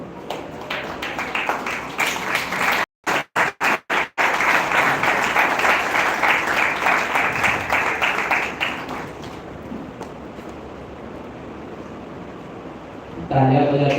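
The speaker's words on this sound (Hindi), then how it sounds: "तालियां बजाते रहो।" Audience applause fills an award ceremony hall, a dense steady clapping that breaks off briefly in short gaps, then thins out and fades toward the end before another sound cuts in.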